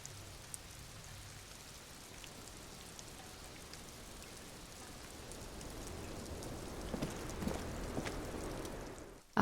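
Steady rain from the game Disco Elysium, a soft continuous patter of drops that gradually swells louder toward the end, with no voices.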